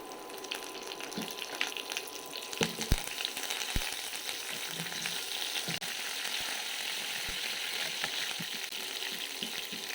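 Urad dal and curry leaves frying in hot oil with mustard seeds and cumin, a dense continuous crackling sizzle, close and steady, broken by a few sharp pops and clicks.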